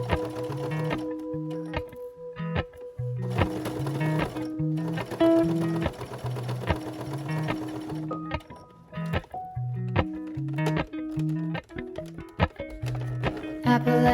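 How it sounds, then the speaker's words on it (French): Sewing machine running a straight stitch around a zipper on a fabric baguette bag, in repeated bursts with short pauses between, steady and close, with music playing underneath. "je vais venir coudre tout autour à la machine à coudre directement"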